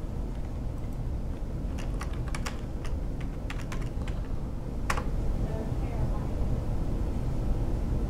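Keys clacking on a computer keyboard as a cPanel username is typed into a PuTTY SSH login prompt, a short run of sharp taps with a louder stroke near the end, over a steady low background hum.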